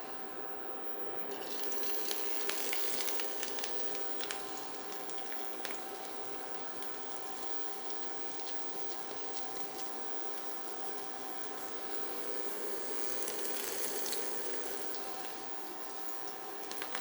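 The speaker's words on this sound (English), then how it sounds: "It's just that quiet hiss and that little sizzle when food's cooking." Potato pancake frying in hot oil, a soft continuous hiss and crackle that stays fairly quiet and even, with faint sputters sprinkled through and no talking.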